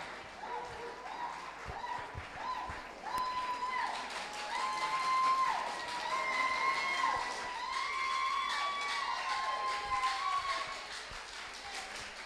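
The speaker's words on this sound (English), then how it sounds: "judging from the applause from the auditorium and the noise, I have no doubt that Maggie delivered" An auditorium audience claps and cheers after a pageant contestant's stage performance, a dense, steady wash of applause and crowd noise with some voices mixed in.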